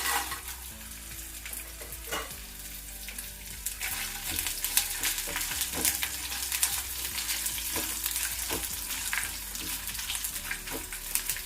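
Dried red chillies fry for chutney in a pan, a steady broadband sizzle punctuated by scraping stirs and clinks of a spatula, close and continuous with no talk.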